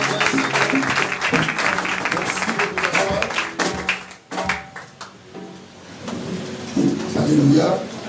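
A church congregation applauds and cheers for Jesus during a French-language service, with dense, loud clapping that thins and then swells again, mixed with voices.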